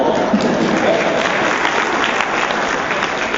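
Warm, continuous audience applause fills a talk-show studio, even and sustained for a few seconds with no voice standing out.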